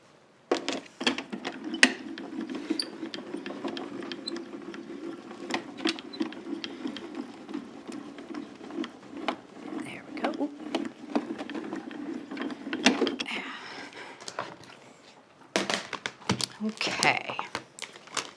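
A die-cutting and embossing machine cranks an embossing plate through, giving a continuous low mechanical whir with fine ratcheting clicks and occasional crinkling. The sound runs steadily for several seconds, then stops and restarts briefly.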